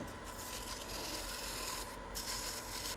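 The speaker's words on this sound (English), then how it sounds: "we're going to come in with some 220 sandpaper, and we're just going to hit that real quick" Sandpaper of 220 grit rubbing against a turned wooden Christmas ornament spinning on a lathe. It makes a continuous dense rasping hiss that swells slightly partway through.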